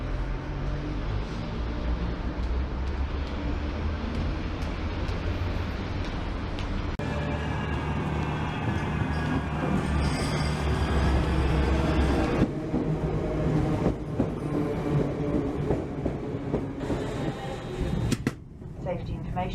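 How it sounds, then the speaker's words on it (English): A Northern train stands at platform 14 of Liverpool Lime Street, its engine and rail noise rumbling steadily and close throughout, with shifting mechanical whines and clanks and a sharp knock near the end. "Northern Service to Liverpool Lime Street, departs from platform 14"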